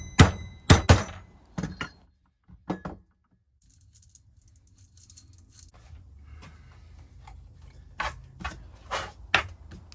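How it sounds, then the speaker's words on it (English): Drift struck with a hammer to seat a gearbox bearing, several sharp metallic knocks in small bursts with a quiet gap in between, close and loud. "here I'm just using a drift to seat the first bearing nicely"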